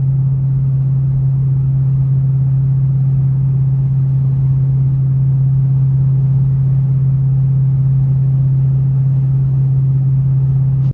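Steady low drone inside a 2014 Ford Mustang GT at highway speed with exhaust resonators fitted, a constant engine and road hum with no variation and no voices.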